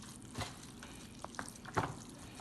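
Onion being stirred into rice in a pot for party jollof, a low simmering sizzle broken by a few soft scraping and stirring knocks, no voices heard.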